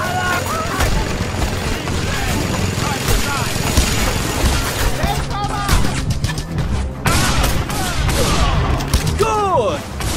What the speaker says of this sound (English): Scorpio, take care of the mounted gun!